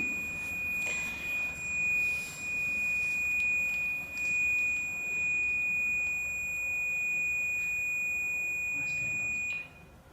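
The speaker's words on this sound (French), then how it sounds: "Les détecteurs, il y en a 2 qui se sont déclenchés." Ghost-hunting detectors triggered inside a supposedly haunted house give off steady, thin electronic tones that hold continuously over a faint room hiss before cutting off near the end.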